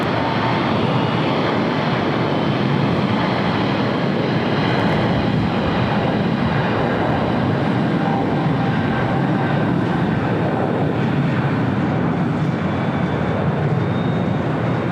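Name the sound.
airplane taking off from runway 25 left at LAX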